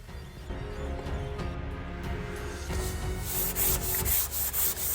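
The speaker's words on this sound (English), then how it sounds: "you want to give it a little sanding prior or after you paint each layer. I used a high grit 220 grit, just lightly sanded" Light hand sanding of a painted vintage wooden console with fine 220-grit sandpaper gives close, soft rubbing strokes that grow into quicker, louder rhythmic swipes toward the end.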